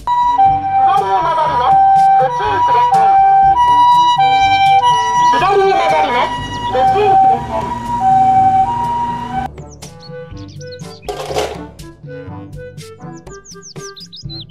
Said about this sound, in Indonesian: Mobil ambulans.